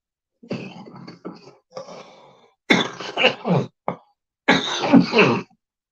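Several raspy coughs and throat-clearing bursts come close to the mic in uneven clusters, separated by brief silences.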